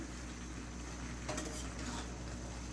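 A small-fish curry cooks in a pan as it is stirred, a continuous faint sizzle and bubbling with soft scraping and a brief clink of the utensil against the pan.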